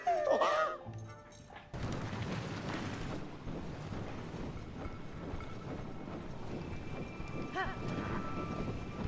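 Rapid hoofbeats of a horse in the video game Zelda: Tears of the Kingdom clatter in a quick galloping rhythm, moderately near, after a brief whinny-like call at the start, continuing steadily throughout.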